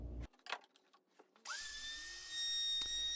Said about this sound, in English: I'll take my router and route out the groove